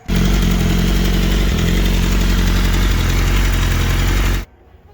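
BMW S1000RR (2016) sport motorcycle with the airbox off, running on a dyno for tuning, a loud, dense, sustained engine roar held steady for about four seconds before cutting off sharply into near silence.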